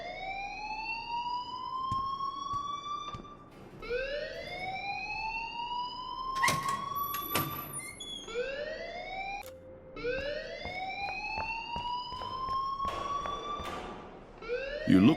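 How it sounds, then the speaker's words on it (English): Fire alarm ringing in the video game Life is Strange, a rising, whooping electronic siren tone repeating in long sweeps with sharp clicks and clatter between cycles, loud and continuous. "please turn off that alarm since that's your job"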